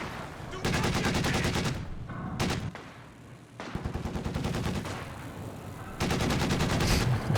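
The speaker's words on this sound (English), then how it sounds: "Looks like it's infantry fire though." Infantry gunfire in the real-time strategy game Company of Heroes 2 comes as dense, sustained bursts of rapid machine-gun and rifle shots with brief lulls, loud and continuous, and a commentator's voice sits faintly beneath it.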